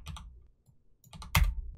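Fingers type on a computer keyboard up close, a few quick bursts of clicky keystrokes separated by short pauses, ending on one louder key press, with no voices.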